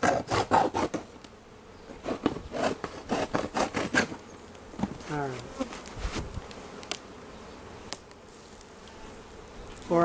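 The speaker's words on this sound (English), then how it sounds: "There's a lot of bees in there. You probably hear it." A swarm of honeybees buzzes inside a hive box in Cupertino, California, a low droning hum under rhythmic scraping and knocking sounds, close by, with intermittent handling noises.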